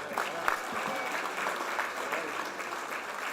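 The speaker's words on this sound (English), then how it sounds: "Big round of applause for all of our panelists" Sustained applause from a full-house audience for a political panel, a dense patter of clapping hands holding steady throughout.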